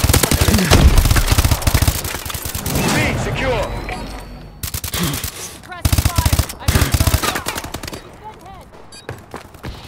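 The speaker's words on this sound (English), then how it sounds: "Suppressing fire." Rapid machine-gun bursts crackle in the Call of Duty: Advanced Warfare video game, loud and repeated in stuttering volleys with short gaps, over game ambience and a radio-style voice.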